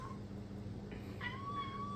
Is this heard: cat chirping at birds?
yes